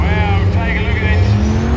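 A drag racing car blasts through the finish line at Tailem Bend, a loud, dense engine roar heard close up under an announcer talking over a public address system.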